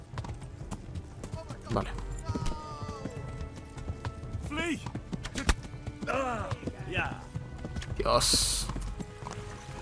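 Horse hooves clip-clop steadily under a Spanish-speaking voice as a tired horse carries the rider through Kingdom Come Deliverance, with a few whinnies and game voices mixed into the scene.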